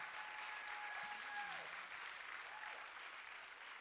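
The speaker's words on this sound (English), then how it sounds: "one more round of applause for Nav." Audience applause at a live storytelling event, steady clapping from a crowd that continues throughout, fairly distant and even, with a faint tonal hum running beneath it.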